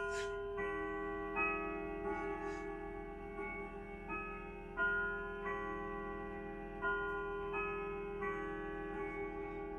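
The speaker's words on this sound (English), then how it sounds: "It has a beautiful tone, this clock." A rustic oak grandfather clock with a Westminster chime and moon dial rings a sustained, bell-like melody of resonant chime notes struck at a steady pace, each tone ringing out over a low hum.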